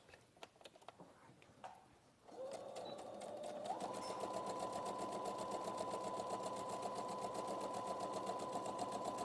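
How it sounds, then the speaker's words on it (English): A sewing machine stitches a continuous seam around fabric pieces placed right sides together, starting after brief handling noises and then running steadily and close for several seconds as a fast, even mechanical chatter. "I'm going to sew in a continuous line all the way around, leaving the top edge free"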